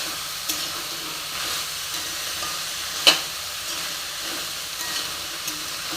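Biryani ingredients roasting gently in oil in a pan over a low flame give a soft, steady sizzle and hiss, broken by a few light clicks of a stirring utensil, one sharper than the rest.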